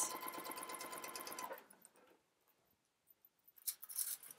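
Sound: sewing machine stitching bias tape on a skirt

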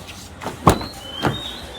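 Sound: door of Toyota Revo box truck opening

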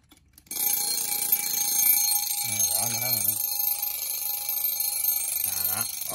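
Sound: old mechanical wind-up desk clock alarm ringing

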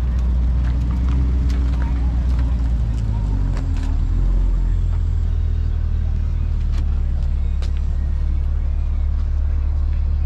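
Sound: Corvette engine rumbling as it arrives

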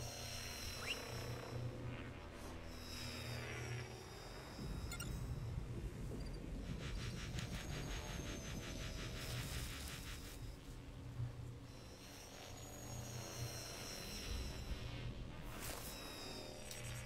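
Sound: enemy drones flying in Call of Duty: Advanced Warfare video game

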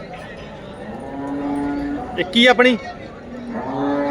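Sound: cow mooing at cattle market

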